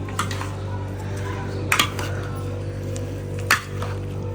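A spoon stirs cream into fruit chaat in a bowl. Soft squishing runs over a steady background hum, broken by a few sharp metallic clinks against the bowl.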